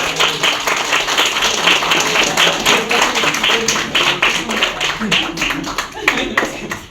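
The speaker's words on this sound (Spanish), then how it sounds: "aplauso" An audience applauds at the opening of an academic seminar, with dense steady clapping from many people and voices heard in the background throughout.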